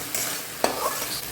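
Spice paste with turmeric, chili and cumin powders, sugar and salt is sautéed and stirred in a kadai: a short burst of sizzling with one sharp scrape of the spoon, heard alone.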